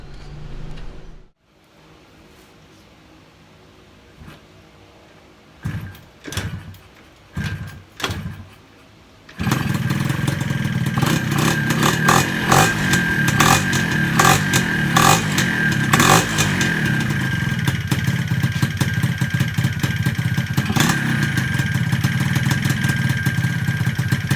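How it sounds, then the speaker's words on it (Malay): A 125Z motorcycle engine cranks in a few short bursts, then catches and settles into a loud, steady idle with a rattling rhythm. "Aku nak start dulu motor ni."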